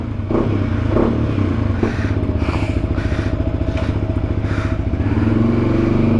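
A Yamaha WR155 motorcycle engine idles and revs steadily nearby with a throaty, pulsing rumble and some mechanical clatter, running continuously throughout.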